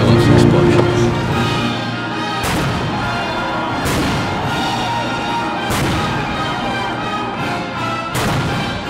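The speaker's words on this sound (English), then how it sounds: "Big cannons, big explosions, everybody loves explosions." Loud cannon blasts land every second or so over a full orchestra at a July 4th concert, the deep thuds punctuating the sustained music.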